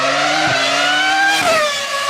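V10 supercar engine of a Lexus LFA or Porsche Carrera GT in a drag race, loud high-pitched howl rising through the revs with quick gear-change dips, close and alone.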